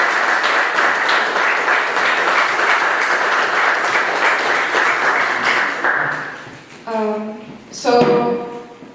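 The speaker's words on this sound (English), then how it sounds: "One more hand of a round of applause for Bryce as well." A room full of people at an event applauds for Bryce, a dense, sustained round of clapping that fades out after about six seconds before a voice begins speaking.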